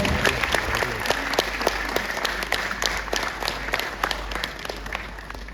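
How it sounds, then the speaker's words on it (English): Audience applause at a school annual day celebration, a steady dense wash of many hands clapping throughout, fairly loud and close, with no speech over it. "I'm sure they deserve a tremendous applause."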